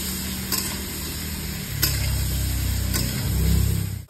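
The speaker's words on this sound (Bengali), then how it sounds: "আলু ফুলকপি আমার ভাজা হয়ে গেছে" Potatoes and cauliflower fry in a pan with salt and turmeric, a steady sizzle broken by a few sharp clinks and stirring scrapes, close up and alone.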